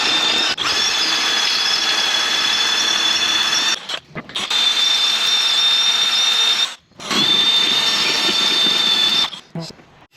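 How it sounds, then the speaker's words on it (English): A power drill whines steadily through rusted metal on a John Deere military dozer engine in three long bursts separated by brief pauses, loud and close. "got drilled through with a smaller bit"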